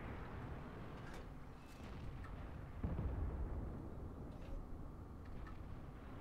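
A tank gun on an STA-1 fires a single heavy shot at a T-54 in World of Tanks, a sharp boom midway through that rumbles out over a steady low background of battle and engine noise.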